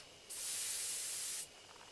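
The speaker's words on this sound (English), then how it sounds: "Take careful aim and spray the drug." A single steady hiss of a sprayer releasing a sleeping drug at a bee hive in the video game Death Mark, starting abruptly, lasting about a second, then cutting off into quiet room tone.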